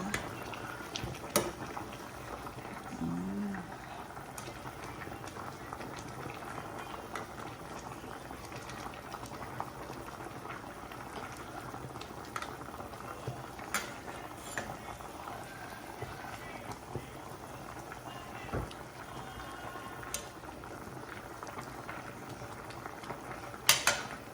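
A pot of simmering Thai pork and mixed vegetable stew bubbles steadily while being stirred now and then, a continuous close boiling hiss with occasional light scrapes and clinks of a utensil.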